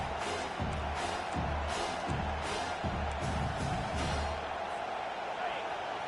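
A home crowd roars steadily in an NCAA college football video game as the defense tries to get off the field on third down, a dense, continuous wash of cheering with rhythmic thumping swells beneath it.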